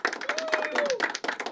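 Audience at a poetry open mic claps briefly in uneven bursts, mixed with voices and a whoop, close and moderately loud.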